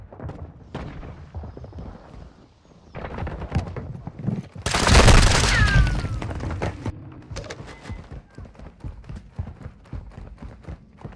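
Call of Duty gunfire: bursts of rapid automatic shots and a loud blast in the middle, with sharp cracks continuing afterward, close and loud.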